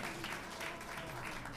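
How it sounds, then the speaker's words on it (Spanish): An audience applauds flutist Fabricio Monteagudo and his accompanist at a concert, a steady wash of many hands clapping at even loudness throughout the brief moment. "Un aplauso fuerte para estos dos profesionales de la música"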